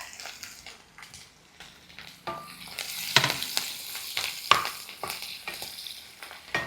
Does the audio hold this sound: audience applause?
no